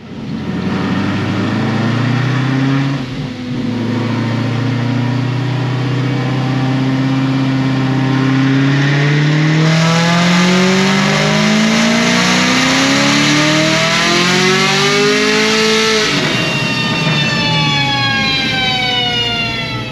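An 1100 hp Procharged Chevrolet Camaro ZL1 with methanol injection roars through a loud, sustained full pull on a dyno, its engine pitch climbing steadily through the revs with supercharger whine, then dropping off after release.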